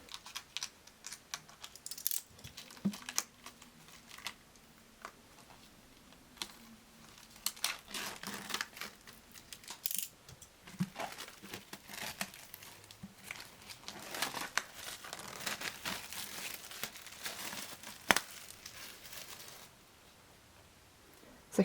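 Plastic shrink wrap being peeled and torn off manga volumes, with steady close crinkling, crackling and occasional sharp tears and taps running continuously for about twenty seconds without talk.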